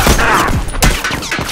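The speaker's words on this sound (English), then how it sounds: "Look out! He's got a rifle!" Rifle fire in The Last of Us Remastered factions multiplayer: a rapid burst of loud, close gunshots with sharp repeated cracks over about a second and a half.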